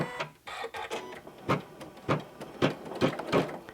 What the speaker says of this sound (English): you just push the start-stop button and let the machine do its magic